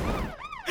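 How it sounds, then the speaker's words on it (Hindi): A warning siren in a cartoon, a brief rising and falling wail that is loud and close, sounding alone for under a second. "माताजी को देखकर खतरे का सायरन मत बजाओ।"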